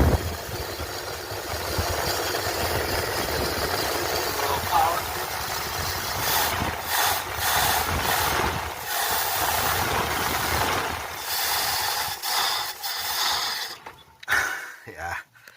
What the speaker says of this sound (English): Running a little rough, but she's running.